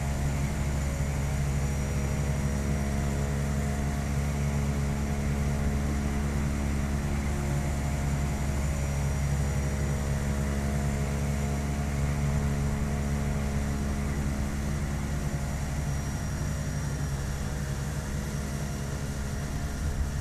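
A Carenado C208B Grand Caravan turboprop engine in the Prepar3D flight simulator drones steadily with a constant layered hum and whine for the whole stretch, loud and unbroken, with no talk.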